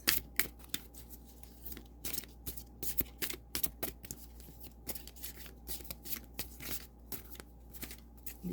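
Tarot oracle cards being shuffled by hand, a stiff deck giving repeated quick riffling and flicking bursts in an uneven rhythm, close and fairly soft over a low steady hum.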